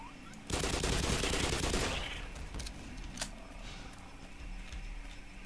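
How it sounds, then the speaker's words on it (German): An explosion in the video game Black Mesa: a loud, sudden blast that roars for about a second and a half, then decays into crackling debris and faint scattered ticks. "ich muss das explodieren lassen"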